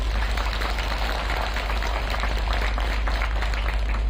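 Congregation at a parish Christmas gathering claps steadily to welcome Archbishop Felix Toppo, a continuous even wash of many hands over a strong low hum from the sound system.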